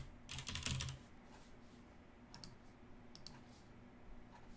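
Someone types code comments on a computer keyboard: a quick cluster of key clicks, then sparse isolated taps, all quiet and close in an otherwise silent room.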